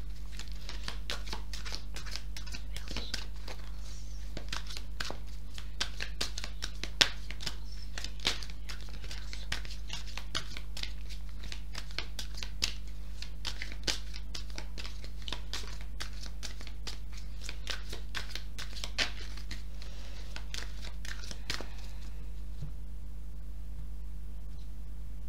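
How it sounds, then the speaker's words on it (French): Oracle cards are shuffled and drawn by hand indoors, giving a continuous soft papery riffling and crinkling with scattered sharper card snaps, close and fairly quiet over a low steady hum. "je vais vous tirer 2 cartes de l'oracle du miroir"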